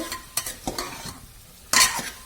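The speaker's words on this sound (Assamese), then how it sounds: "আমাৰ এই হালধিৰ কেঁচা গন্ধটো যোৱালৈ 1 মিনিট সময় ভাজিলো" Turmeric frying in a pan gives short bursts of sizzle and scraping as a spoon stirs it, ending in a brighter, louder hiss, with no one talking.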